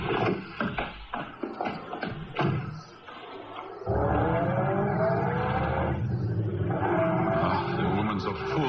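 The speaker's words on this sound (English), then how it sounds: "I shall stop the car now and let you off" A car in a 1981 radio drama rumbles and shuffles at first, then its engine settles into a steady, close hum as it idles to a stop, with a brief voice early on.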